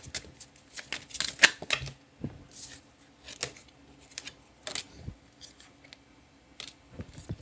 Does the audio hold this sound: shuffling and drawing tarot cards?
yes